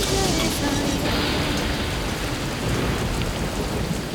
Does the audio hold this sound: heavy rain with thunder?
yes